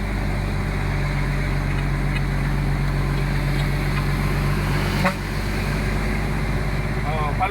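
Steady, close engine drone from a vehicle on the move, shifted through gears without the clutch, with a brief dip in the hum midway before the even running resumes.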